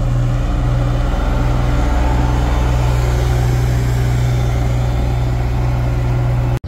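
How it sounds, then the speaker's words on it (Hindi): Traffic on the Padhar bypass road, a loud continuous low rumble of engines and tyres with a steady hum, vehicles blending into one dense roar up close, no voices. "ये आप देख रहे ना ट्रैफिक की स्पीड देखो भाई"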